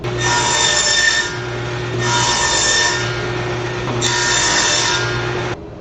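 A power saw with a fence and stop block cuts wooden box pieces to length in three loud, separate bursts, with the motor humming between cuts and no talking.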